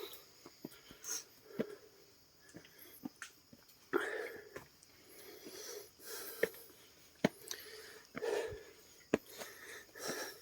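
Someone pants heavily and gasps after climbing the 930 steps up Tayak Hills. The quiet, irregular breaths and sniffs come close to the microphone, with sharper bursts scattered through.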